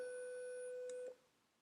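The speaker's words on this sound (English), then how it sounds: "And a triangle wave." Triangle-wave tone from a MicroBlocks microcontroller board, a steady, fairly pure electronic note with soft overtones sustained for about a second before stopping, followed by quiet hiss.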